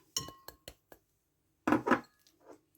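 A bowl handled while gram flour is added for aloo pakora: a few sharp clinks and taps close by, then a short cluster of duller knocks and a soft scrape, all with quiet between them.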